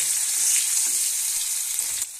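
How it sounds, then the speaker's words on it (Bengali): Sliced onion frying in hot oil with crushed cardamom, cloves and cinnamon, a loud, steady sizzle close by that drops away abruptly near the end, with no talking. "তো পেঁয়াজটা একটু ভাজা হোক।"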